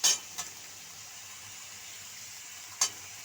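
Fried cauliflower stems tipped into a pan of chili and poppy seed paste, giving a couple of sharp metallic clinks and a scrape over a faint, quiet background hiss.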